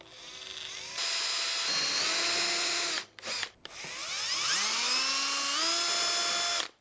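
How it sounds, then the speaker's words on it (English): A small power drill whirs at high pitch, pre-drilling screw holes to mount a Wixey digital readout on a DeWalt DW735 planer, pitch shifting as it bites, briefly stopping and stuttering before spinning up again, loud and close. "they were kind enough to include a drill that you can use to pre-tap the holes"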